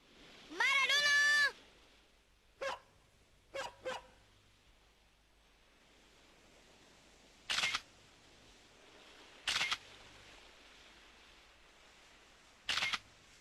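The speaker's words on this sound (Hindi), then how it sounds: "तुम किसकी फोटो ले रहे हो? समंदर की फोटो।" A camera shutter fires three crisp, well-spaced clicks while photos of the sea are taken, after a short chirping vocal sound at the start and a couple of softer clicks.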